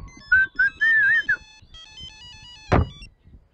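A mobile phone ringtone plays a short, bright melodic tune in a Telugu comedy film scene, then stops; a single dull thunk follows. No one speaks.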